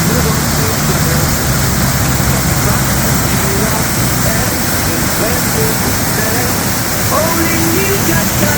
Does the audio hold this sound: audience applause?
no